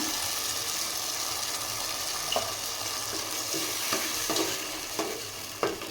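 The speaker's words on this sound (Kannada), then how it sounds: "ಈಗ ಇದು ಅಷ್ಟೇ ಚೆನ್ನಾಗಿ ಸ್ವಲ್ಪ ಫ್ರೈ ಆಗಲಿ" A thick onion-cashew paste sizzles and fries quietly in a pan for kaju paneer masala, with occasional scraping stirs and soft clinks over the steady crackle.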